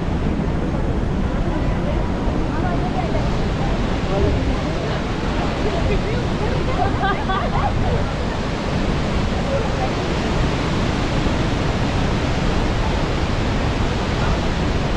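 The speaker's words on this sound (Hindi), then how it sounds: "पानी कितना तेज, और कहाँ से आ रहा है पत्थरों के बीच में से" A fast mountain stream rushes between rocks near Mana village in India, a loud, constant roar of water with someone talking over it.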